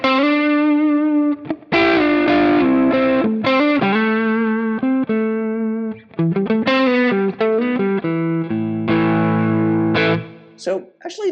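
Electric guitar played through an amp-sim plugin with a preset, a warm overdriven lead tone; loud, close single-note phrases and chords that ring and sustain, with brief pauses between licks.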